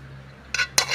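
A magic wok, a kalaha, set down on a kitchen stove before frying onions and chili, giving two short metallic clanks about a quarter second apart over a steady low background hum.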